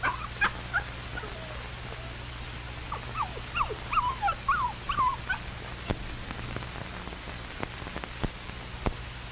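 A homesick puppy whimpers in high, short, wavering cries, several in a cluster, close and moderately loud over a steady crackling, hissing background with a low hum, as on an old 1953 film soundtrack.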